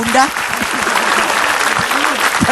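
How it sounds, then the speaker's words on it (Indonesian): Audience applause at an Islamic religious gathering, a dense, steady wash of clapping from a crowd, loud and close, with a voice speaking over it throughout. "Tepuk tangan dulu untuk Ustazah Bunda."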